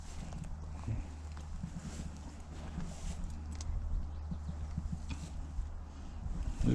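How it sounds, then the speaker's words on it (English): Horse hooves clop in soft, uneven steps at a moderate distance, with faint wind and outdoor ambience underneath. "I really like horses."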